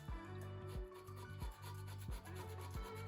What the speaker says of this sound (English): I want to make sure that the scraper is flush to the base metal or to the mating surface of the gasket.